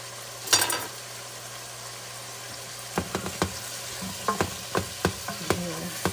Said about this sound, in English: I'm back here cleaning up some of the mess while that's sizzling